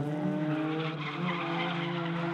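Drift cars at a Capital Drift competition, running a top 8 battle side by side down the back straight, roar with sustained engine drone and tire skidding, loud and continuous throughout.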